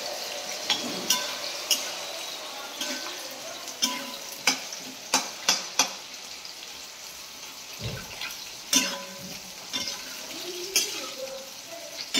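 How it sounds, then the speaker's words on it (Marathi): Onion roasting in a pan, a soft, fairly quiet sizzle broken by a string of sharp scrapes and knocks from stirring, close by, with faint background sounds and no clear talking. "पुन्हा हे कांदा भाजून घ्यायचा."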